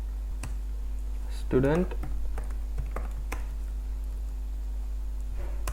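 Typing on a computer keyboard produces scattered, light key clicks, while a person talks at length over them in a quiet room.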